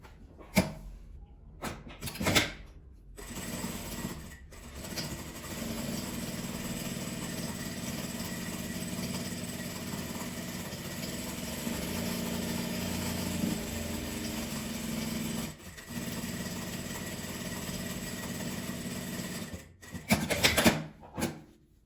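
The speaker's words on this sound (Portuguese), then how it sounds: "E vou costurar em volta dela toda." A sewing machine stitches around the edge of a small fabric accordion wallet. It gives a steady mechanical whir that runs for most of the clip, with brief handling knocks at the start and end.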